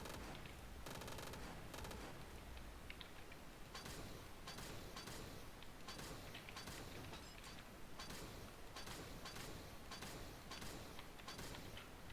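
Rapid automatic gunfire from a top-down shooter video game, a dense continuous stream of shots bursting over game music and effects, loud and steady throughout with no talking.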